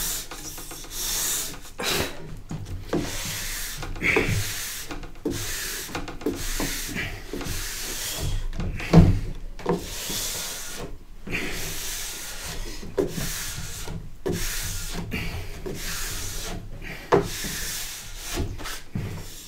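A cork block rubs wax into a snowboard base in brisk back-and-forth strokes, a rhythmic, close scrubbing that repeats steadily with short pauses and no talking.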